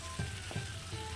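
Chicken pieces frying slowly in a pan for a chicken curry, a soft, steady sizzle with a few louder crackling bursts, close by and with no talking.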